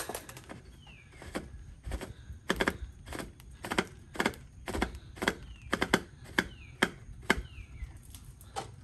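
Trimmer line is wound by hand onto the spool of a Milwaukee M18 FUEL string trimmer, making a quick series of sharp, evenly spaced ratcheting clicks, close and fairly quiet, with birds faintly in the background.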